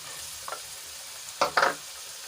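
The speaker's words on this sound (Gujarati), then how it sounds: "હવે બધું સરસ રીતે મિક્સ કરી લઈશું" Tomato pieces being stirred into eggplant and long beans frying in a pan, with a soft steady sizzle and a few scraping stir strokes, the loudest bursts near the end.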